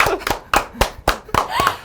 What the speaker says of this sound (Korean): 와, 박수 박수